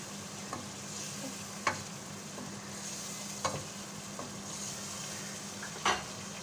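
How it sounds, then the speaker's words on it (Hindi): Chicken and green chillies sizzle quietly in a pan under a steady low frying hiss, broken by a few sharp scrapes and clinks from the stirring spoon at irregular intervals, with no voices. "जो हमने हरी मिर्च निकाली थी ना वो हम ऐड करते हैं। इसको मिक्स कर देंगे।"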